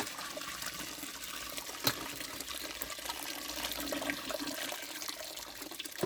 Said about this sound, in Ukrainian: Ну, я таким чином процілюю і виливаю.